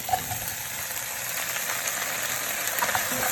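Celery and potato fry over high heat in a pan with sweated onions, a steady close sizzle and crackle holding even throughout with no talk.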